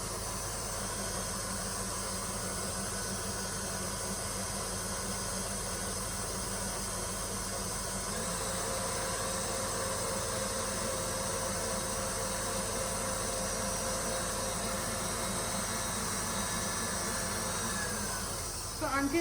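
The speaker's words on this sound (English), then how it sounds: "I'm just going to increase the speed to make sure that it whisks the first batch of it." An electric mixer whisks meringue for Japanese soufflé pancakes, producing a continuous faint whirring hiss that changes pitch and rises slightly partway through as the speed goes up.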